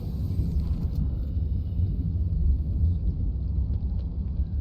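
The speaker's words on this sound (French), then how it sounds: "Ah, c'est des éclairs!" Thunder from lightning in the video game Subnautica Below Zero, a deep continuous rumble rolling on for several seconds, loud and low with no voices.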